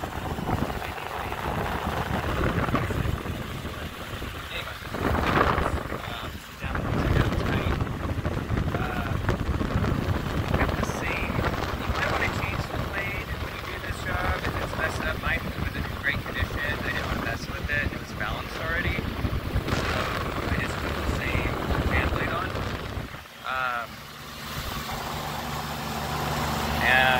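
Home air conditioner fan motor running after a motor replacement, a steady continuous whir with rattly broadband noise and some wind buffeting, while a person talks over it.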